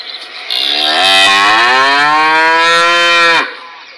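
A single long, drawn-out cow moo, loud and close, rising then holding steady before cutting off abruptly; electronic-sounding, like a toy.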